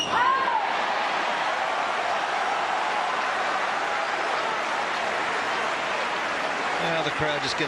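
Spectators at the 2017 Australian Open tennis final between two players applaud and cheer steadily, a dense, even wash of clapping that fills the whole stretch, with a few voices and shouts near the start and the end.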